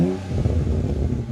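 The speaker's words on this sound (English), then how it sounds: "Now let's get some pure exhaust tones where there's no artificial burbles and just the pure straight 6 noises." A BMW N54 twin-turbo straight-six, unmodified with no artificial burbles, rumbling close up with a deep, smooth, throaty exhaust note that swells briefly as it revs.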